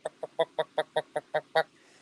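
A person imitates a chicken's clucking call, a quick run of nine evenly spaced, loud, close clucks.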